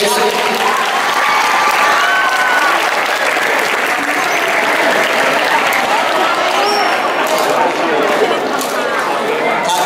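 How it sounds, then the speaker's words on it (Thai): Loud, sustained applause from an indoor audience at a Yonex badminton open tournament in Thailand, dense clapping with crowd murmur and a few cheers continuing steadily throughout. "ขอเสียงปรบมือ"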